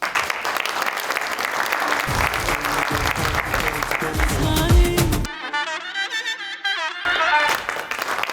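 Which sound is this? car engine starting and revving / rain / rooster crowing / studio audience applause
studio audience applause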